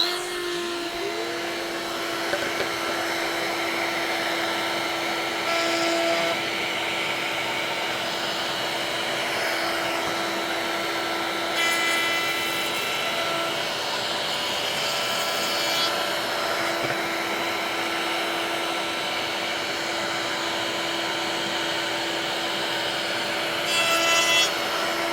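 A Robert Sorby Pro Edge sharpening machine runs with dust extraction while sharpening a Stanley No. 5 plane blade, giving a steady whirring grind with a constant hum and brief louder rasps of the blade on the abrasive.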